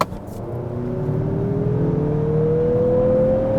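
A Mazda CX-5 or CX-50 in sport mode with automatic transmission accelerates at full throttle, the engine note rising steadily in pitch as it revs up, loud and close, with no talk.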